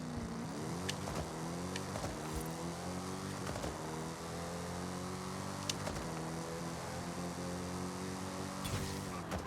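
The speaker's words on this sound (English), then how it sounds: "You want to rev it as high as you can," A 2022 Dodge Challenger Super Stock drag-tuned in the Forza Horizon 5 racing game, its engine revving high with a steady, buzzing harmonic drone before launching, heard alone at moderate volume.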